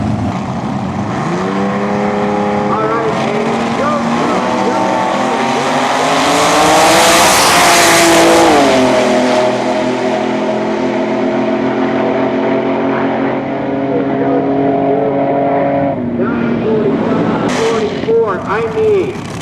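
Eight-cylinder and six-cylinder race cars at a vintage racing meet rev and run past, loud and close, with engine pitch climbing to a peak mid-way and falling off, then a brief tire squeal near the end while a voice talks over it.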